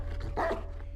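A woman's dog barks toward a window indoors, a single sharp bark close by over a steady low electrical hum.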